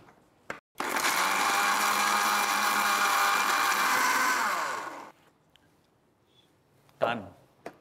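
A mixer grinder whirs loudly for about four seconds, grinding a chutney of ginger, green chili, tamarind, salt and water, then spins down, followed by faint clicks and a short knock.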